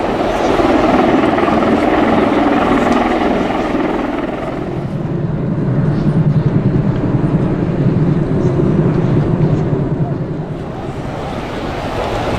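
A USAF CV-22B Osprey tiltrotor flying a display at the Royal International Air Tattoo gives off a loud, steady rotor roar and thrum that dips slightly and swells again, continuous throughout, with faint crowd or commentary underneath.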